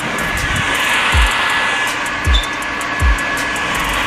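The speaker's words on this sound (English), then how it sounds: "Dahil sobrang basa, lagi yung mga sapatos ko after maglaro at mag-workout, this is the secret. Blower." A blower runs steadily to dry shoes soaked from sports and workouts, a continuous loud rushing hiss broken by a few low thumps.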